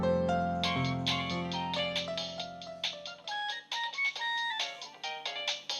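A mobile phone rings with a bright, tinkling melodic ringtone, the notes repeating in quick rhythmic bursts, clear and close in a quiet room.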